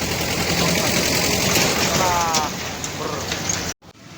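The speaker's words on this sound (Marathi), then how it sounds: "आता पाऊस चालू आहे आम्ही चाललो पावसात गाडीवर फिरायला" Steady rain hisses loudly and evenly during a motorbike ride, with a low engine hum beneath it, before the sound cuts off abruptly near the end.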